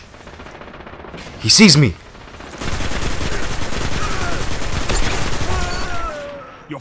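Gunfire in the video game Destiny, a rapid sustained burst of shots that runs for several seconds after a brief shout, loud and close.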